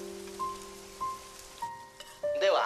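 Rain falling in an anime scene, a soft steady patter under sustained musical tones and brief chimes, with a brighter flurry of sound near the end.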